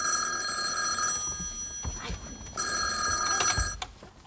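An old-style telephone bell rings in two long bursts separated by a short pause, loud and close indoors, with faint movement noises between the rings before it is picked up.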